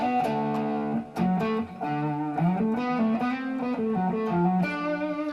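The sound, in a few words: electric guitar amp with warm overdrive breakup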